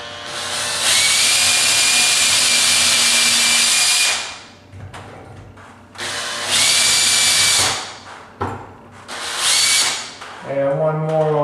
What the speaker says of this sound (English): I'm going to go ahead and drill in